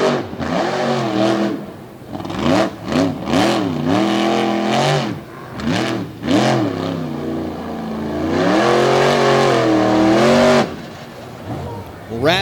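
A Ford monster truck smoking its tires at Lake Erie Speedway, its engine revving hard in repeated rising and falling bursts before a long sustained high rev, loud and close, with an announcer talking over it.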